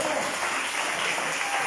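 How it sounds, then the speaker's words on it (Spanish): A church congregation applauds during a sermon: dense, steady clapping that fills the room, loud and continuous without a break. "Vamos a darle un aplauso al Señor"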